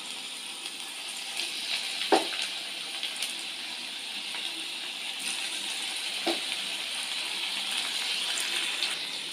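Onion bhaji sizzle steadily in hot oil on a low gas flame, a continuous bright crackle with a couple of brief clinks partway through.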